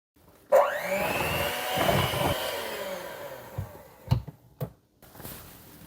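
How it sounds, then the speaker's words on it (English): An electric mixer beats pumpkin cake batter, starting suddenly with a loud whirring motor hum that wavers in pitch for a few seconds, then cuts out, followed by a few knocks and clatters. "And mix for another minute or so."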